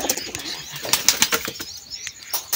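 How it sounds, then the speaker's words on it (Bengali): Female pigeons flap their wings as they fly back to the nest to feed their chicks, giving a run of sharp, close wingbeat bursts in an irregular flurry with faint bird sounds. "তো সব মাদি কবুতরগুলো বাচ্চা খাওয়ানোর জন্য বাসায় চলে আসছে"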